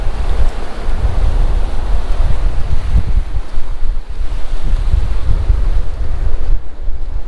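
Strong wind buffets the microphone on a beach on a windy day while surf rolls and crashes continuously nearby, loud and unbroken with no voices.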